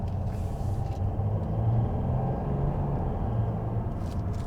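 Mercedes-Benz CLS350 CDI BlueEfficiency diesel engine on a road drive, heard from inside the cabin as a steady low rumble and drone with light road noise, continuous and without voices.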